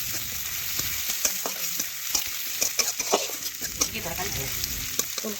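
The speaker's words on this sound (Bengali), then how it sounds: "এখন পেঁয়াজ একটু নাড়াচাড়া করে লাল লাল করে ভেজে নেব।" Chopped onions fry in hot oil for a cauliflower and fish curry. A steady bright sizzle runs throughout, broken by scattered scraping taps of a stirring spoon against the pan.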